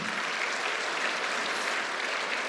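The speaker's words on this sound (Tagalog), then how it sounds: "lakasan niyo yung palakpak niyo" A church congregation at a Tagalog preaching service claps in steady, uniform applause, a continuous even wash of hands with no voices over it.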